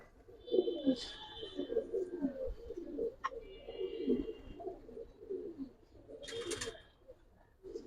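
Low, throaty cooing from silver Giribaz pigeons repeats in soft rolling phrases nearby, with a few faint chirps and brief rustles.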